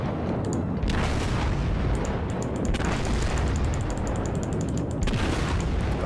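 Warship cannons boom in a naval battle game, heavy dense rumbling blasts rolling almost continuously with repeated sharp crack onsets, loud and without talk.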